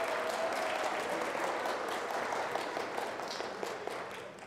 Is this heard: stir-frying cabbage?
no